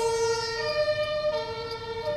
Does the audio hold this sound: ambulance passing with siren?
yes